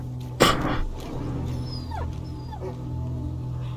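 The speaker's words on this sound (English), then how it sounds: "The hell is that, the dog?" A dog whimpers and yips in the stealth adventure game A Plague Tale: Innocence, with a few thin rising cries over low ambient game drone, following a sharp noisy burst at the start.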